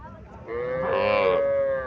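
A Friesian heifer calf at a cattle market gives one loud, drawn-out moo rising and holding for over a second, close by.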